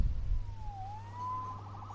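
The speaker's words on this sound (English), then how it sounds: "Saved by the siren." A police siren in Marvel's Spider-Man wails as a single thin rising-and-falling tone, heard at moderate distance over a low city rumble.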